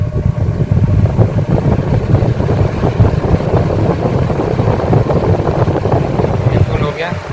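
A blower driven by a single-phase motor on a speed control card, running at full speed: a loud, steady, broadband whoosh and hum that stays even throughout, with a voice speaking over it.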